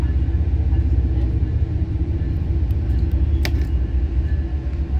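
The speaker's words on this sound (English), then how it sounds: "BNSF Warbonnet 761 would trail on this intermodal train" BNSF intermodal freight train rolling past, a steady low rumble of wheels and cars, constant and heavy with a brief higher squeal near the middle.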